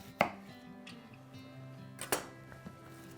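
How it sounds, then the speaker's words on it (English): A knife slices through an onion on a board, two distinct cutting knocks with softer taps between, close and quiet against a faint steady hum. "I just simply take an onion, slice it"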